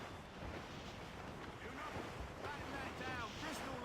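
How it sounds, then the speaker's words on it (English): A rough squall in Assassin's Creed Rogue, with steady, faint rushing wind and sea wash around a sailing ship, a continuous broadband roar throughout with a voice briefly audible. "Careful. It's quite a rough squall"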